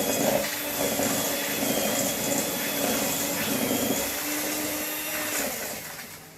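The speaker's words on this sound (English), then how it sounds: "using a hand mixer to keep it on the bottom of the bowl so it doesn't flick across the whole kitchen" An electric hand mixer whisks cake batter for an apple cake, held against the bottom of the bowl at medium speed, giving a loud continuous whirring drone with slight shifts in pitch and no talk.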